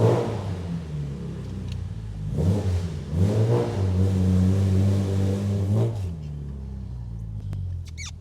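A 1962 Aston Martin DB4 Vantage engine runs after being fired up, revving in rising and falling surges before settling into a steady rumble, fairly close, without talk.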